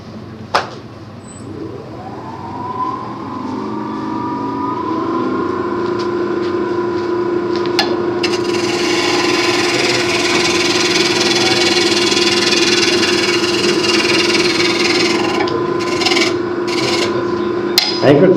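A wood lathe spins up and turns a multi-axis wooden candlestick at a woodturners' club demonstration, with a steady tonal hum and a raspy cutting scrape growing louder midway, close and continuous.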